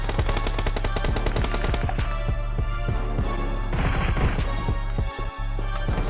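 Rapid automatic gunfire from an M16 rifle in the BGMI battle royale game, loud sustained bursts of closely spaced shots with a brief pause near the end, no talk.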